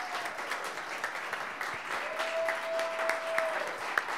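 Applause at an evening event for speakers from the transgender community: a steady wash of many hands clapping, moderately distant and even, with a faint sustained whistle-like tone running through part of it.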